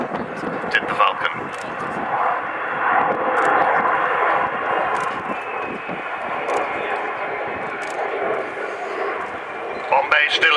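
Avro Vulcan X558 jet bomber flying at the RIAT airshow, a loud, sustained, broad roar that holds steady for the whole stretch, with a voice speaking over it.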